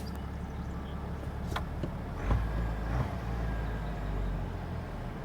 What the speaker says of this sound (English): For a diesel engine, there's no clunk or anything. It's just kind of like a little purr.